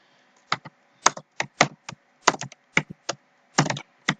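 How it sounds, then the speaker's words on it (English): Keystrokes on a Hungarian computer keyboard, a close, dry run of separate taps and short bursts with uneven pauses between them, with no voices. "This keyboard is really messing up because it's a Hungarian keyboard"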